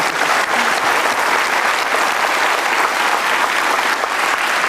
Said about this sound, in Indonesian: Luar biasa, perlu tepuk tangan.